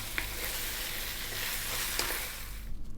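Macaroni pasta being stirred through a creamy vegetable sauce in a pan, giving off a loud, continuous sizzle with a few soft utensil knocks before the sound suddenly drops away.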